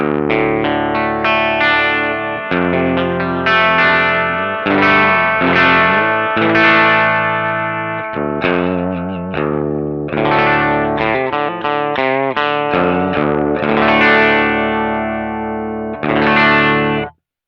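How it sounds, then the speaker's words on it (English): Clean electric guitar through a cab simulator plays a melodic line of ringing notes and chords, bright and direct with a slight chorus shimmer, continuous for the whole stretch. "It's just a very clean, nice electric sound."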